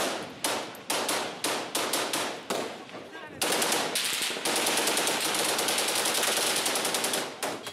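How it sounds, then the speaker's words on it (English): Automatic weapons firing in guerrilla fighting, loud rapid bursts that start and stop several times before merging into a long continuous rattle of gunfire. "We soon find ourselves trapped amidst the bursts of gunfire from automatic weapons."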